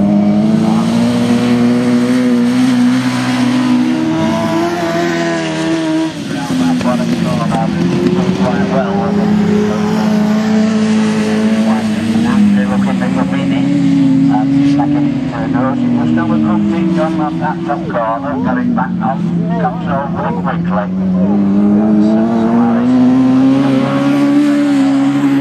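Race cars on a circuit at a Nottingham event for Class 13 drone loudly and continuously, their engine pitch rising and falling as they accelerate and brake, under steady commentary.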